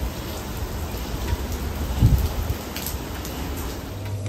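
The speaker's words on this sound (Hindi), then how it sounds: "इतनी बारिश हो रही है।" Steady heavy rain pours down outside a bungalow, a dense continuous hiss with a brief louder thump midway, heard alone without voices.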